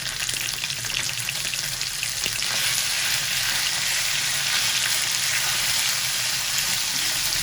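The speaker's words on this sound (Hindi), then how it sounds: "अब इसमें हम शामिल कर देंगे चिकन को।" Chicken frying with garlic in a pan over medium heat, a dense continuous sizzle heard up close and unbroken, with a faint stir or two and no talking.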